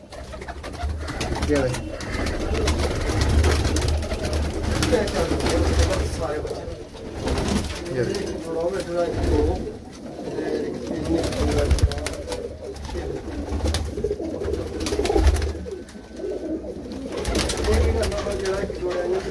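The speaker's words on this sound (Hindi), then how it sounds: "सारे कबूतर अभी अंदर आ रहे हैं" Teddy pigeons in a breeding setup in Jammu coo steadily, a continuous low murmur of overlapping calls, with someone speaking over them throughout.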